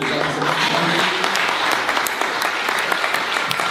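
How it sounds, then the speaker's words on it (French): A church congregation at a revival meeting in Geneva breaks into sustained, dense applause, loud and close, with scattered voices mixed into the clapping. "On acclame le Seigneur pour elle déjà."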